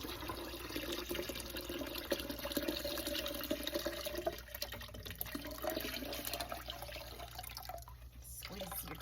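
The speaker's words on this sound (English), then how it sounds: "add your cold water." Cold water runs from a tap into a pan while making sweet tea at home, a steady hissing pour that continues for several seconds, softening near the end, with a faint hum underneath.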